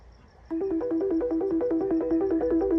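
A mobile phone rings with an incoming call, a melodic electronic ringtone that starts abruptly and repeats its short looping tune steadily and clearly, with no voices over it.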